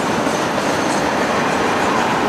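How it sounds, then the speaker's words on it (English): A freight train hauling tractor trailers rolls past the tracks close by, a loud, steady broadband roar of wheels and cars with no break and no voices. "Completely impossible train to ride right here."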